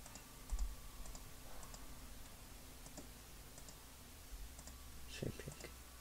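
Sparse keyboard clicks and a few taps on a computer keyboard, close but quiet, with scattered single keystrokes and a slightly louder knock near the end.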